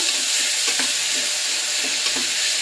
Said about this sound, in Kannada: ಹಾಕ್ಬಿಟ್ಟು ಚೆನ್ನಾಗಿ ಫ್ರೈ ಮಾಡ್ಕೊಳ್ಳೋಣ